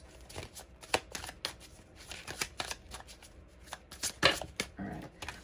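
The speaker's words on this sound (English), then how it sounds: "I'm going to put them back in and just shuffle a couple more times." Tarot cards are shuffled by hand in quick, crisp riffling bursts, a close and steady run of papery flicks and taps with no talking.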